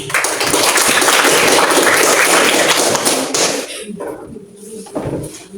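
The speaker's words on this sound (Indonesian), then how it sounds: "Ya, berikan tepuk tangan." Classroom audience applause after a student group presentation: a burst of loud, dense clapping for about three and a half seconds, then a few scattered claps and taps.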